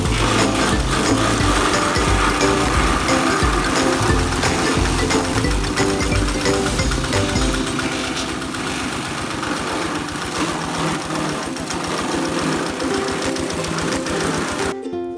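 A grass chopper driven by a Kubota tractor engine runs steadily and loudly throughout, a dense mechanical clatter with a rapid vibrating rhythm and no pauses.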